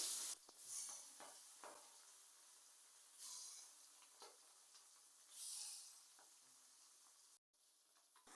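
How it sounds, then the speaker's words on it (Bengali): Fish frying in hot oil in a wok, heard as soft, intermittent bursts of sizzling hiss that swell and fade over a quiet kitchen background. "এখন চুলায় কড়াই বসিয়ে তেল গরম করে মাছগুলো ভেজে নেব।"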